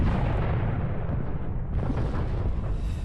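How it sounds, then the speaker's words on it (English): Planetary bombardment in the strategy video game Master of Orion 3, a loud continuous rumbling barrage of explosions that fills the whole stretch without letting up. "Let's bombard it."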